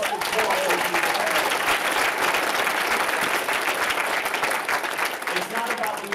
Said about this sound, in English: Round of applause for Alex Hormozi.